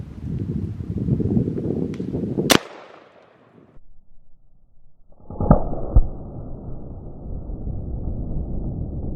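A 5.56 rifle round strikes a mortared brick wall with a ballistics gel head behind it, producing a sharp, loud single crack. A second impact-like burst follows after a quiet gap, with lingering noisy rumble.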